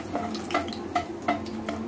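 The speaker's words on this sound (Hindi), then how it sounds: "अब इस तेल में हम जो आलू वाला तेल था उसमें हम तेज पत्ता, सूखा मिर्चा और तीन चार जो भी है छोटे टुकड़े दालचीनी के डाल देंगे।" Bay leaf, dried chilli and small cinnamon pieces go into hot oil left from frying potatoes, with a handful of soft stirring scrapes and light clinks sounding at a steady rhythm close by over a quiet sizzle.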